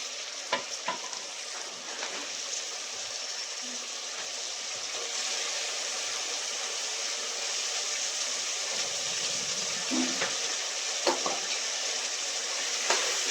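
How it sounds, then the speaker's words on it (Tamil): Soaked white peas are tipped into frying tomatoes and stirred, producing a steady loud sizzle with occasional spoon scrapes and taps close to the pan. "வெள்ளை பட்டணி ஊற வச்சுருக்கேன் இப்போ அதுவும் போட்டுக்கலாங்க"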